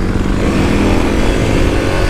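A 2021 Kawasaki KLX300 dual-sport motorcycle engine barks loudly and close up during a clutch pop, a continuous rough single-cylinder roar with no talking.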